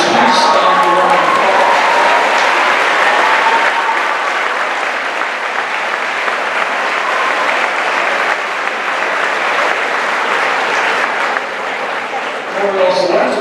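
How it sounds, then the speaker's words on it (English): Sustained applause fills a school promotion ceremony as the audience claps for a retiring Spanish teacher after 37 years, loud and steady throughout before tapering near the end. "please stand for a round of applause"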